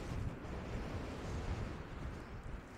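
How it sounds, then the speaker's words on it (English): Wind rushes steadily across a bleak open moor near stone rows, a continuous low roar buffeting the microphone with no voices. "And just wind and cloud drifting past."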